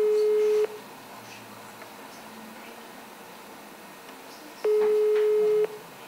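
Unanswered telephone call: a steady ringback tone sounds twice, each beep about a second long with a long pause between, over faint background hiss.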